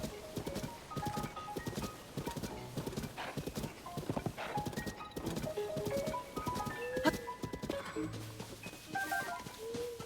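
Rapid hoofbeats of a galloping horse in The Legend of Zelda: Tears of the Kingdom clatter in a steady rhythm, mixed with short electronic chimes and effects throughout.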